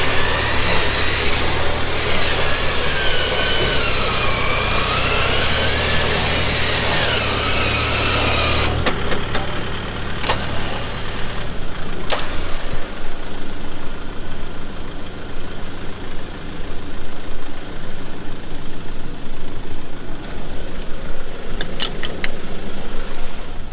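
A loud car engine runs steadily throughout on an off-road track, rising in pitch early on as it revs, then settling into a rough, sustained drone.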